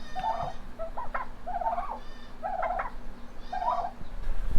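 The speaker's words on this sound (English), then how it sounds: "Let's check in on the turkeys." Turkeys gobble repeatedly in rapid warbling bursts, four or five calls in a row over steady barnyard background noise on a farm.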